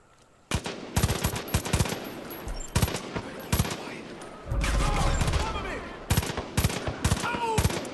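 Far Cry 5 gunfire: loud bursts of automatic shots in rapid clusters, repeated over several seconds with short pauses, plus a heavier rumbling blast midway.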